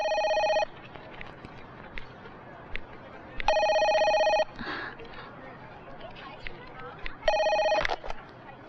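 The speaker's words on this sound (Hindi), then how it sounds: "हाँ राज, फोन है।" A telephone bell rings in three separate bursts, loud and near, with voices talking in the gaps between rings.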